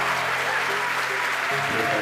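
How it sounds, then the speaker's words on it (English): At SpaceX headquarters in Hawthorne, a crowd cheers and applauds after a booster landing, a loud, dense, sustained roar of clapping and shouting. "The crowd's going nuts here at SpaceX headquarters in Hawthorne."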